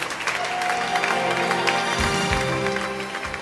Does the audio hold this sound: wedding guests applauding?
yes